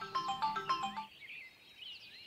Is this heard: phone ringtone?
yes